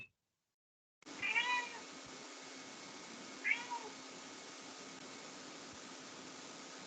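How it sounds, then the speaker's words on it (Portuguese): A pet cat lets out two brief meows, one near the start and another a couple of seconds later, faint against a steady hum of background noise with no talking. "É um gato bravo aí."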